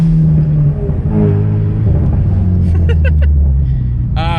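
A Ford Mustang EcoBoost with a burble exhaust tune rumbles steadily up close with a low exhaust burble and some revving; a few faint higher chirps near the end.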